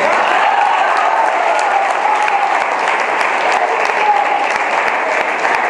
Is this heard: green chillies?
no